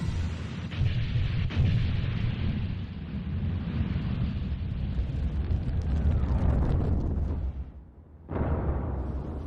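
Weapon fire from an action movie with a Gamera attack, a long, loud, rumbling blast roar that holds steady for several seconds, dips briefly, then surges back.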